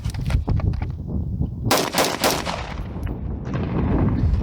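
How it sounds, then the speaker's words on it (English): Unsuppressed rifle shots fired at an outdoor range, several loud sharp cracks with rolling echo, spaced irregularly across a few seconds, with no talking. "we'll shoot this one unsuppressed"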